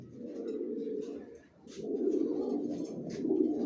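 Racing pigeons, young Johnson-line homers, coo in a loft, a steady low rolling murmur from several birds with a brief dip midway and occasional faint higher chirps, nearby and moderately loud.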